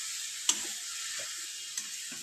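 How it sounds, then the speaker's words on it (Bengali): Grated carrot and sugar for carrot payesh, stirred in a hot pan, give a faint, even sizzle with a couple of light spatula taps. "চিনিটা দিয়েও গাজরটাকে ভালো করে"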